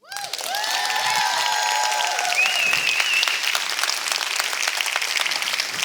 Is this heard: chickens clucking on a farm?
no